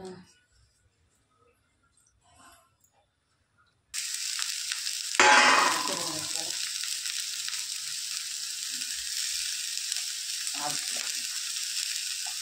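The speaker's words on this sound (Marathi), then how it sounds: "त्यासाठी फुल गॅस केलेला आहे मी आणि हे घेणार आहे त्या सगळे एकत्र फ्राय करून" Carrots and capsicum fry together in a pan over full gas for momo filling, a sudden loud sizzle starting after quiet, with a burst of stirring and then a steady hiss.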